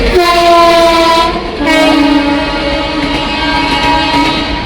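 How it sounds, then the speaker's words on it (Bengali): At a railway station a train rolls past with a loud, sustained horn, two long blasts with a short break and a slight pitch shift, close by over a steady rumble of the wheels. "ট্রেন কখন আসবে?"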